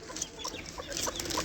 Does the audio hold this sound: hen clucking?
yes